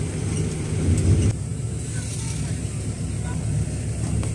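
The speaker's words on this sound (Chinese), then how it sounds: "要坐10分钟的观光车。" A sightseeing shuttle bus carries visitors to the Three Natural Bridges scenic area at Wulong. A steady low engine and road rumble runs throughout, with a faint murmur of voices beneath it.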